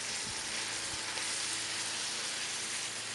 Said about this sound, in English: That ground beef is browning up quite nice.